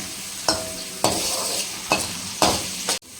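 Onions sauté in a pan for a village-style chicken gravy, a steady hiss of frying broken by four sharp scrapes of stirring spaced about half a second apart, close and loud with no talk.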